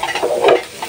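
Ash gourd pieces fry in a pan while being stirred, a brief close burst of sizzling with scraping stir strokes and no voices.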